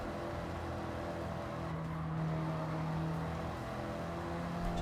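Race cars accelerate hard in Gran Turismo, with engine roar building steadily and a sustained rising tone as the cars chase a Countach, loud and continuous with no voices.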